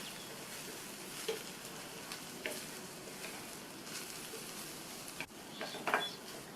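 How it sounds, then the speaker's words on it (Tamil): Snake gourd pieces coated in masala powders frying gently in a pan on low heat, a faint, steady sizzle with a few soft stirring scrapes, fairly quiet throughout. "2-3 நிமிஷத்துக்கு இந்த மசாலாவோடு சேர்ந்து இந்த காய் ஃப்ரை ஆகிட்டுருக்கட்டும்"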